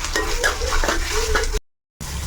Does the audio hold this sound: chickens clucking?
no